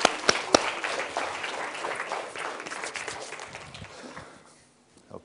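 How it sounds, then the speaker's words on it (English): A studio audience at a science-of-colour show applauds, a dense burst of clapping that starts with a few sharp claps, holds steady, then tapers away to near silence. "Let's give them a little round of applause."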